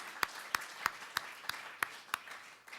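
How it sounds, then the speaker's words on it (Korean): About eight hand claps from a church congregation during a sermon, in a steady, evenly spaced rhythm, fairly quiet and slightly distant, with no talking. "하나님께 영광의 박수를 드립니다"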